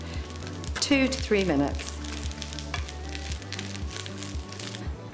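Mushrooms sauté in a hot pan for an omelette, a steady close sizzle with crackling bursts as they are stirred, running under a voice speaking.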